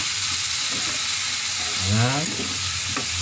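Chopped tomatoes sizzle steadily as they are sautéed and stirred in hot oil with garlic in a pan, a continuous frying hiss with brief stirring scrapes and a short spoken word over it.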